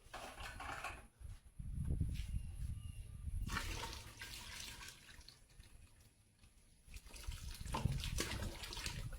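Cool water is poured into a toasted corn bourbon mash in uneven splashing and gurgling bursts, fairly faint and close, with a brief lull midway before the pouring resumes.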